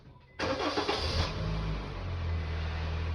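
Honda car engine starting up after repair work on its steering rack: a brief crank bursts in loudly, then the engine settles into a steady low idle, close by with no talk.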